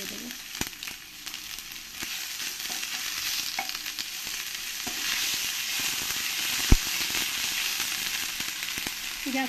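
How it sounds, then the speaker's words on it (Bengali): Bay leaves and dried red chilies frying in oil in a pan, a continuous crackling sizzle with light stirring scrapes and a few sharp pops, steady and close with no talking. "ভালো করে একবার আমি নেড়ে দেব"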